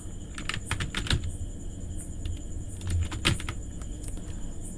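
Keys clatter on a computer keyboard in short bursts of typing, fairly close, over a steady low background hum with no talking.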